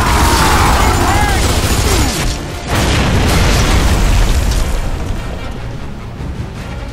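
Grenade blasts in the video game Gears of War 2, a loud boom followed by a second burst, with heavy rumbling debris and players talking over the action.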